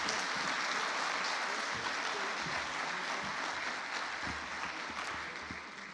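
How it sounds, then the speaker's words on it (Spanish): Audience members at a talk by an FBI attaché applaud the speaker with a soft, distant wash of many hands clapping that stays even and then gradually fades toward the end. "Le damos un aplauso a nuestro ponente,"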